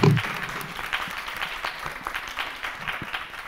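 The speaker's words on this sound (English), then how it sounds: "Let's give a round of applause." An audience at a discussion event bursts into applause, a steady wash of many hands clapping that starts strong and gradually thins out, heard alone without talk.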